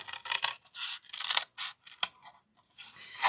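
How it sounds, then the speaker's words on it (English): Scissors cutting paper up the middle, a series of crisp snips and slicing strokes in uneven bursts with short gaps, close and clear with no talking. "I'm going to cut up the middle."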